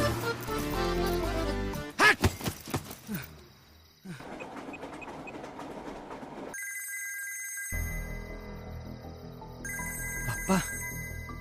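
A phone ringtone sounds among layered music and noise, its tones repeating in bursts that stop and start across the clip.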